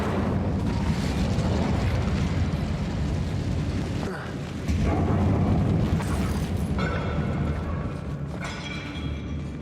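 Incendio fire spell cast in Hogwarts Legacy, a dense roaring burst of flame with rumbling low end, swelling again midway and continuing steadily under game ambience, with a voice talking over it.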